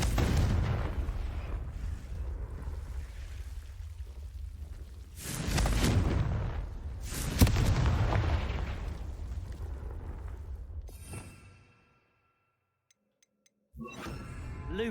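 Confringo fire-blast spells from the video game Hogwarts Legacy, heavy rumbling booms swelling twice in the middle of a dense roaring background, then dropping to near silence before a sharp burst at the end.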